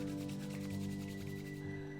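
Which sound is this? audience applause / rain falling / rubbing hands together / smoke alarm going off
rubbing hands together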